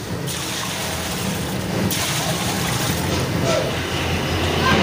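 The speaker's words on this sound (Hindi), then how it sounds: "सबसे पहले पानी शामिल कर देंगे 20 लीटर।" About 20 litres of water pour steadily into a large cooking pot for a cream cocktail dessert, a loud continuous rushing splash that runs unbroken from start to end.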